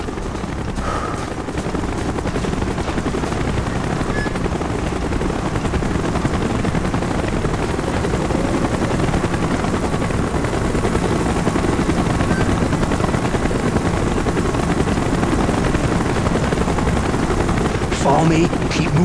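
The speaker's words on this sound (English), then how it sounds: "Chopper's inbound! Move it!" A helicopter closes in during a Call of Duty: Black Ops mission, its rotor drone loud and steady beneath bursts of machine-gun fire, with voices talking over the din.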